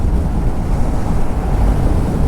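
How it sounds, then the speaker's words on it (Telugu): Sea waves at Dhanushkodi surging up toward the coastal road, heard as a steady loud wash of surf mixed with heavy wind buffeting the microphone, no voices. "వేవ్స్ వచ్చి ఇక్కడ వరకు వస్తున్నాయి అన్నట్టు"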